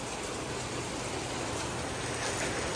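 Heavy rain pouring outdoors, a dense continuous hiss of downpour filling the scene evenly with no breaks.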